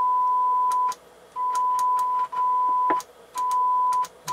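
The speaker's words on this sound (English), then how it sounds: "We have our tone on speakers one." A steady test tone plays through the speakers of a Harman Kardon 330c receiver during power testing, sounding in several sustained bursts with short gaps between them, accompanied by faint clicks and crackle.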